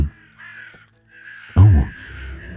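Great raven in the video game Drova gives a loud, harsh croaking caw, close and sudden, after faint ambient ringing tones.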